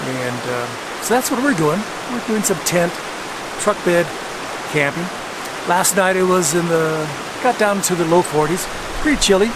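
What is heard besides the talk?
river flowing near a campsite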